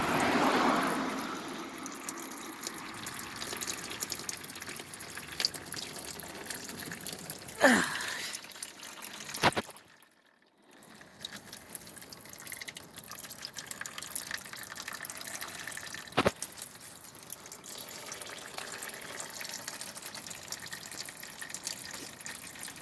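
Transmission fluid dripping and trickling from the loosened pan of a 2008 Dodge Grand Caravan 3.3 L during a fluid service, a steady close wet patter with a few sharp clicks.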